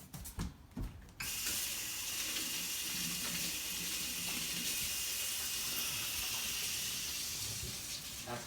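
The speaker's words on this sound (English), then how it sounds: "And then I'm gonna wash my hands" Hands washed under a running kitchen tap, a steady loud rush of water that starts after a second of brief knocks and continues nearby to the end.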